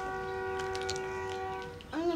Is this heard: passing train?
yes